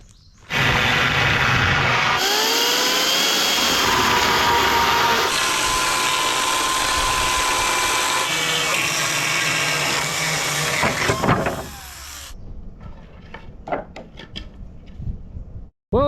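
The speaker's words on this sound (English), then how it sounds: "my weapon of choice for today is the 58-volt Echo chainsaw" A 58-volt Echo battery chainsaw cuts steadily through wooden roof trusses with a loud, continuous high whine for about eleven seconds, then winds down into scattered knocks and clatter of wood.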